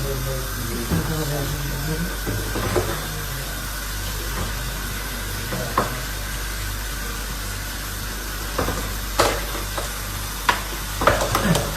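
Halva roasting in a pan and being stirred, a soft continuous sizzle under a steady background rumble, with occasional sharp utensil scrapes and knocks that grow more frequent toward the end.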